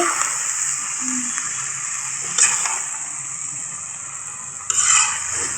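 Eggplant curry with shrimp cooking in a pan, a steady close sizzle and bubbling hiss with occasional louder stirring scrapes, no talking.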